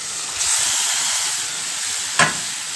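Beef liver hits a hot pan of onion mixture with a steady, close sizzle and hiss that runs throughout, with a brief sharper burst of spitting near the end.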